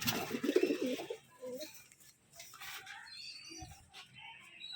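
Pigeons coo in low, throaty bursts inside an enclosed room, one close and loud at the start, others fainter, amid light background noise.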